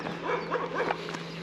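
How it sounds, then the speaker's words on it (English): Several dogs bark and yip in a busy chorus at a campsite near a nature reserve in Scotland, steady overlapping calls throughout with a constant low hum beneath. "there's a lot of dogs here. Once one starts, that's it."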